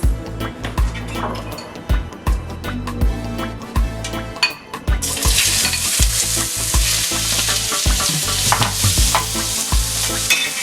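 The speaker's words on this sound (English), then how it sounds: "We're gonna throw those back on the stove and warm them up a little bit with a little bit of teriyaki sauce." Vegetables warmed in a pan on the stove with teriyaki sauce, stirred with sharp metallic clanks and scrapes, then a loud, dense sizzle takes over partway through, close and continuous.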